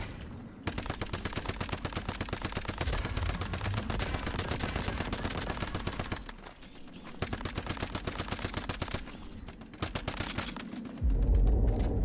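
Rapid suppressed automatic fire from the Bingo gun with an integrated suppressor in the game Once Human, sustained bursts of dense muffled shots broken by short pauses, loud and close, with no speech.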